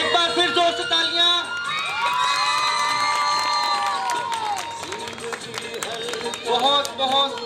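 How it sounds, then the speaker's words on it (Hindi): An audience at a Christmas competition cheers and applauds, with shouting voices, whoops and some clapping under loud calls, all close and lively in the room. "एक बार फिर जोर से तालियां।"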